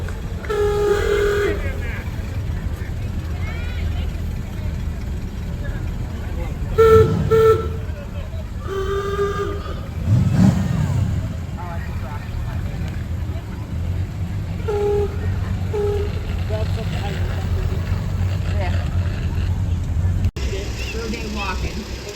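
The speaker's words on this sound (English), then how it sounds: "Making its way down the street is a 1925 Ford Model T with George and Heidi Badger" A 1925 Ford Model T rolls down the street in a parade, its horn giving several short toots over a steady outdoor rumble.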